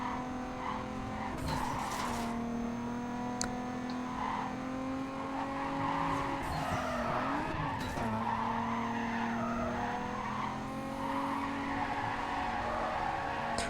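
Rear-wheel-drive car in the Heatwarped racing game, an engine droning steadily while tires squeal and skid in repeated bursts, fairly loud and continuous with no speech.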